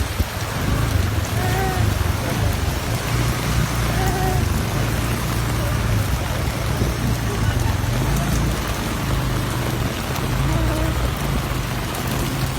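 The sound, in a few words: heavy rain falling in Nairobi flood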